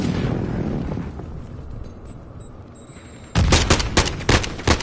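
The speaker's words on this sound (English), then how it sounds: "The crappy AK that I hate." Rapid AK rifle fire in the Call of Duty MW2 beta, loud close bursts cutting in over a rumbling game backdrop and continuing in sharp repeated cracks to the end.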